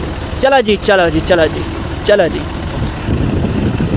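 A tractor hitched to a cart drives along in a village, its engine a steady low rumble throughout, with someone talking over it.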